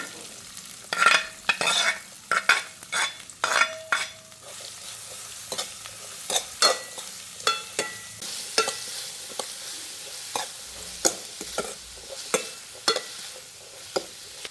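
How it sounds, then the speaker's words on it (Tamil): Fennel seeds, onions, green chillies and garlic sizzle steadily in hot oil while a spoon scrapes and stirs the pan in irregular bursts, close up and without talk. "எனக்கு எண்ணெய் சூடாகிட்டுது நான் பெருஞ்சீரகம் சேர்க்கிறேன் வெட்டி வச்சிருக்கிற வெங்காயம் பச்சை மிளகாய் உள்ளி எல்லாத்தையும் சேர்க்குறேன்"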